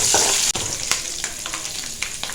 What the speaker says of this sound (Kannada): ಓಕೆ, ಇದನ್ನು ಒಂಚೂರು ನಾ ಈಗ ಫ್ರೈ ಮಾಡ್ಕೋತೀನಿ.